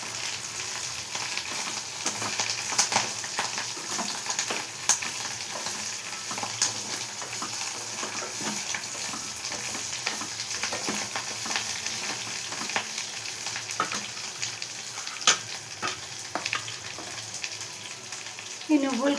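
Sesame seeds roasting in a pan for sorakaya pachadi, a steady soft sizzle with scattered crackles and light stirring scrapes throughout, fairly close.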